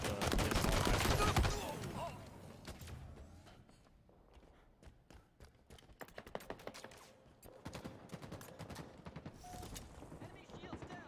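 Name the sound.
pistol gunfire in video game Halo Infinite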